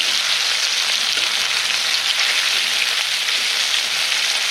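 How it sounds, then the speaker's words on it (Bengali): Chicken fries with spices in a pan: a dense, steady sizzle that stays loud and close throughout, with no talking. "মশলা মশা করে ভাজদাছি লাল লাল করে"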